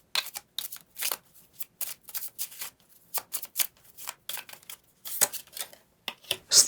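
A deck of tarot cards is shuffled and cut by hand up close, making quick riffling flutters and soft slaps in irregular bursts separated by short silences.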